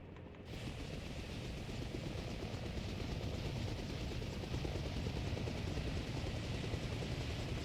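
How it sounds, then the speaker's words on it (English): A helicopter's main rotor spins up in the ArmA Reforger video game, a steady, loud rotor and turbine drone that begins abruptly and holds constant for several seconds with no speech. "Let's wait a moment for the main rotor to reach the necessary revolutions per minute, or RPM, for aerodynamic liftoff"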